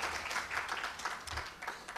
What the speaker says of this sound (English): Ladies and gentlemen, a round of applause for our keynote speaker